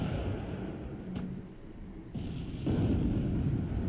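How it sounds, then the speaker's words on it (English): In the Pacific: AE war game, a five-inch shell strikes a ship with a muffled blast, followed by a swelling rumble of explosion noise that grows louder toward the end, with no voices. "Okay, next 5 inch shell hit."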